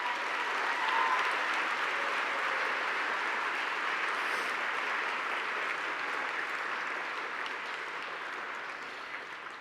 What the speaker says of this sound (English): I ask all of you to give a round of applause for Laura and Marta